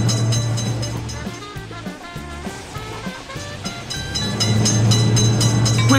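At a video game rail crossing in India, a train runs by with a deep rumble and a pulsing rhythm of wheel beats that dips in the middle, then swells louder and steadier toward the end.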